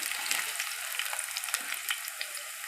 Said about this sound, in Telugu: వేసుకోవాలి ఫ్రై చేసుకోవాలి ఇలా ఇలా ఫ్రై చేసుకోవాలి